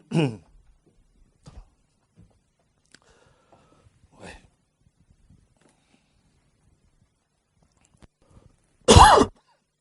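Scattered audience members in a church sermon setting cough and clear their throats, several sparse isolated bursts over a quiet room, ending in one loud close cough.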